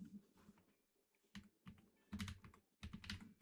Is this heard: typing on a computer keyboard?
yes